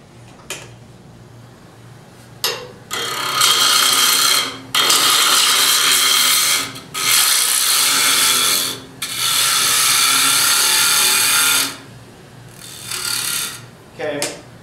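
Wood being turned on a lathe with a bowl gouge to shape a candlestick: loud, sustained cutting bursts of several seconds each, separated by short pauses, close to the listener.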